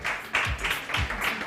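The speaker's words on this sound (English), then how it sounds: "if you guys can give a round of applause" An audience at a startup demo day applauds, a short burst of steady, dense clapping heard alone at moderate volume.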